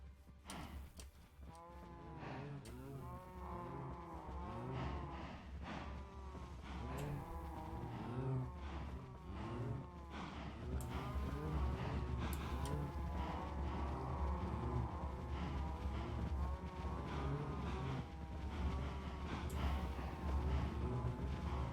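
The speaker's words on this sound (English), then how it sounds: "I gotta get the cows out of here." Cows in the video game Minecraft moo repeatedly in overlapping calls, a dense, continuous herd chorus heard close and alone.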